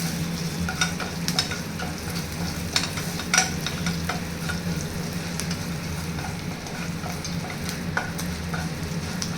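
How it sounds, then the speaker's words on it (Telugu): Tempering spices and curry leaves fry in hot oil in a kadai with a steady, dense sizzle and crackle, broken by occasional sharp pops and a few stirring scrapes, up close and without talk. "కడాయి పెట్టుకొని అందులో కొంచెం నూనె వేసి"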